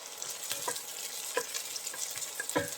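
Chopped carrots, beans and beetroot stir-frying in hot oil for chicken fried rice: a steady close sizzle broken by scattered spatula scrapes and knocks against the pan, with no talking.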